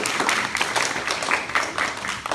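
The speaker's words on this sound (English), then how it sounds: "Give a round of applause" A school audience applauds at a student American Revolution walkthrough at Lomita Math Science Technology Magnet School, a dense, steady patter of many hands clapping throughout at moderate volume.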